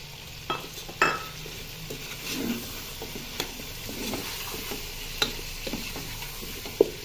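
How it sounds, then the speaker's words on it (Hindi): Potato biryani masala frying in a pan while a spoon stirs it, with a soft continuous sizzle and scattered scraping clicks of the utensil against the metal, fairly quiet and without talk. "अब इसको अच्छे से भून लें।"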